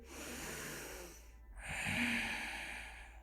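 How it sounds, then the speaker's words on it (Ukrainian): A slow, deep breath taken during a yoga session, an airy inhale followed after a short pause by a longer, louder breathy exhale, close and alone. "Заключний глибокий вдих"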